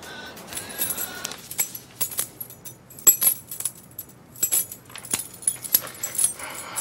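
A bunch of keys jangles and clinks in short metallic bursts as they are handed over, close and intermittent over a quiet indoor background.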